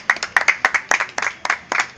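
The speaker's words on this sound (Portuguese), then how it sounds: "Palmas para a bandeira." Scattered hand claps from a small audience at a poetry soirée in a bistro honouring Manuel Bandeira, with uneven bursts of clapping close by and a few voices mixed in.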